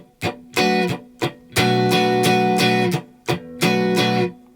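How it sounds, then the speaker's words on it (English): An electric guitar plays choppy funk strums, with short muted scratches between fuller bursts of four quick fretted strums, close and alone with no talk. "I throw in 4 fretted strums all at once"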